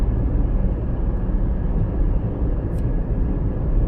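DJI Avata 360 drone in flight, a steady broadband whir and rushing hum that holds level and close throughout without any talk.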